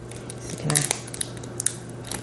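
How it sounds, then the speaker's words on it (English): Scissors cutting into a king crab shell give a few sharp, close snips and crunches over a low background hum. "I got my scissors, y'all."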